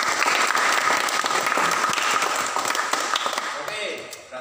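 A classroom group claps for a student during a teaching session, a dense burst of applause that starts at full strength and fades over a few seconds, with some talking underneath.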